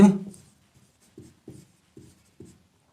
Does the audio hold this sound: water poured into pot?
no